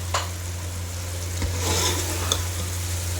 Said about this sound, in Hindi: चिकन सारे मसालों के साथ अच्छी तरह से इसको भी भून लेते हैं।